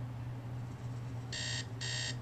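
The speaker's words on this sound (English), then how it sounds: "Worst alarm. It's so terrible." A shrill electronic alarm clock in a Nancy Drew mystery game buzzes in two short bursts over a steady low background hum.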